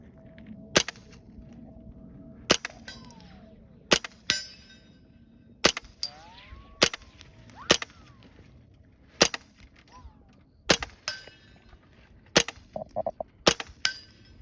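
Suppressed rifle fitted with a Stealth Project 30 cal suppressor firing subsonic rounds outdoors, about a dozen sharp muted reports spaced a second or two apart, fairly loud and close, with faint chirps between shots.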